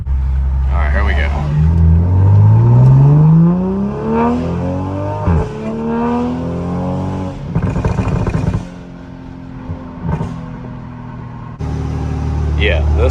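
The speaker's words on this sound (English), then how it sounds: "you can hear the turbo spool in the exhaust a lot more when you get on it a little bit" Toyota car engine revving hard under acceleration, with rising and falling harmonic sweeps and a turbo spool whistling through the exhaust; loud and close, with a short quieter lull before the engine picks up again, and people talking over it.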